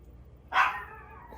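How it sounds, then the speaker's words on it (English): A dog barks once sharply in a kitchen where chicken enchiladas with melting jack cheese are being made, a single close, loud yelp-like bark that trails off into a brief whine. "The dog is having a fit."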